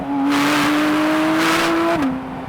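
A Porsche 718 Spyder RS engine revs loudly and close by, its pitch climbing steadily before dropping sharply as the throttle lifts.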